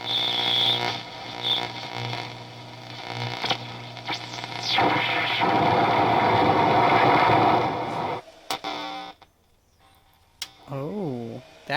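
An old broken tube radio powered from a modified sine wave inverter gives buzzing hum, static crackle and warbling whistles, with some tuning sweeps, dropping to near silence before a few wavering tones near the end.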